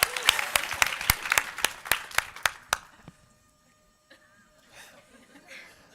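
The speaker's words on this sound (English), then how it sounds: "round of applause for keeping your cool during that" Audience clapping at a talk on digital gender and community voices: a run of distinct, evenly spaced claps, fairly close and crisp, stops abruptly after about three seconds and leaves near silence with faint rustling.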